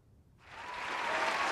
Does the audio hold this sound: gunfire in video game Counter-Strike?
no